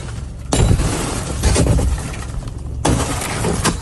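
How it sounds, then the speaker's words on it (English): Federal agents smash a car window in New Bedford: two heavy, abrupt crashing impacts with crunching breakage and rough scraping between them, recorded close and loud on a phone. "Cell phone video shows what appears to be federal agents smashing a car window in New Bedford on Monday"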